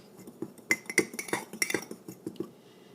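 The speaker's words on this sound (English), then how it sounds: "And we mix that up with a fork. Give it a little stir so it's all evenly mixed." A fork clinks against a bowl while ingredients get stirred, producing a run of light, irregular metallic taps, close and fairly quiet, with no talking.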